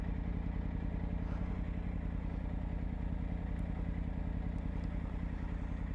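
A motorbike rides along a rural road between Taihape and Napier on Matewhero and Mangaohane Rd, its engine a steady, close drone with wind rush throughout and no talk.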